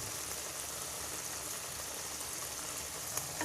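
Bitter gourd pickle frying in hot oil over low heat with five-spice seeds, a steady soft crackling sizzle with a tiny pop near the end, no talking.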